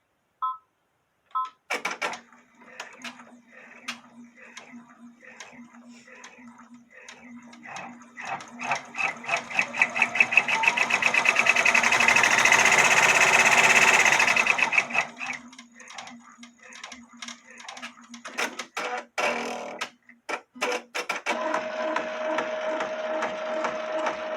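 Embroidery machine doing an applique tack-down on fabric, a close, rapid stitching chatter that starts and stops, builds to a dense continuous run in the middle, then returns to shorter clattering bursts.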